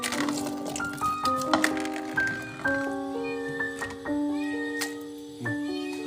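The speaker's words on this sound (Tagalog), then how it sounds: "May pusa pa dito." A cat meows repeatedly in a cemetery, several clear, drawn-out cries in a steady sequence, close and fairly loud with no talk over them.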